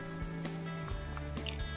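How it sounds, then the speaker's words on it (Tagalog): Laing, Filipino taro leaves in a covered pot, simmers with soft, faint bubbling and light sizzling pops spread through a brief moment. "Kumukulo na yung ating nilulutong laing."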